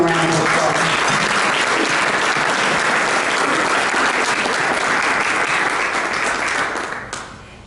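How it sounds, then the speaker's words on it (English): A Rotary club audience breaks into loud, dense applause that holds steady for several seconds before tapering off quickly near the end. "So let's give them a round of applause."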